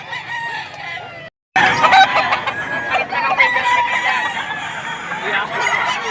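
Roosters crow repeatedly at a gamefowl sale in Padre Garcia, Batangas, loud and close, with clucking and crowd murmur after a brief silent break near the start.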